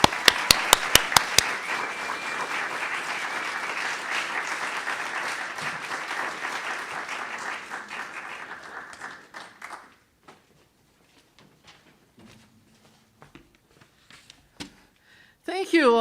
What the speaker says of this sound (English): So please give a big round of applause to Lynn Domina.